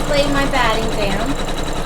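An embroidery machine tacks quilt batting in place on a Kimberbell watermelon pillow block, its steady rapid stitching hum running continuously and close under a speaking voice.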